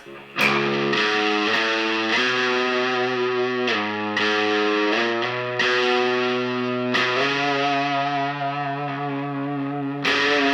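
Heavily distorted Fender Telecaster electric guitar playing sustained chords and notes, thick and saturated with high gain, loud and close, with new strums every second or two.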